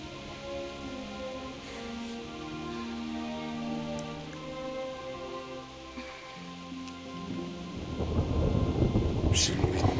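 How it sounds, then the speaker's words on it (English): A thunderstorm with rain in the medieval video game Kingdom Come: Deliverance: low rolling thunder rumbles on and on, then heavy rain swells and hisses louder toward the end. "Not afraid of thunderstorms, are you?"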